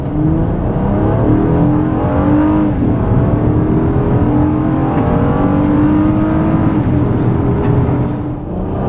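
A 2013 Honda Crosstour in sport mode accelerating hard, its engine droning loudly and climbing steadily in pitch through a long pull, heard from inside the cabin without talk.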